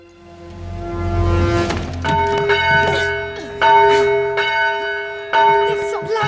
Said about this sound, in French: Fais sonner cette cloche et tu seras mienne.